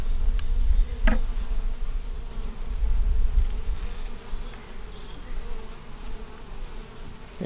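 Dense, steady buzzing of many honey bees at close range at a new nuc hive, a constant droning hum with a few louder passes near the microphone.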